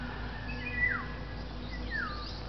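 Two short descending bird calls, one near the start and one about a second later, stand out over a steady low outdoor hum in rural Siaton, Negros Oriental, Philippines.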